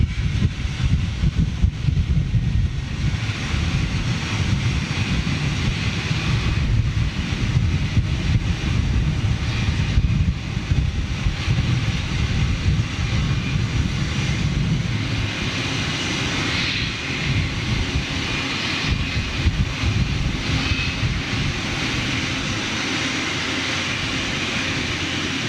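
An Airbus A350-1000 jet taking off roars steadily with a loud, broad engine rumble and wind buffeting, easing slightly in the later part as it climbs away.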